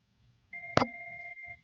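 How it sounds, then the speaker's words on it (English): A phone rings in a room during a curling broadcast, one short electronic tone with a sharp click at its onset, moderately loud over quiet background noise. "My phone's ringing in this room"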